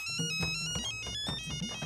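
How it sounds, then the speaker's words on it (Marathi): A phone ringtone plays nearby as a steady electronic melody with a repeating rhythmic beat, with no voices over it. "थांबा थांबा, फोन आला यावं."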